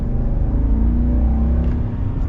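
A 2021 Chevy Silverado 1500 LTZ pickup with a 6.2L V8 accelerates with a deep, loud, continuous engine rumble heard from inside the cab, no talking.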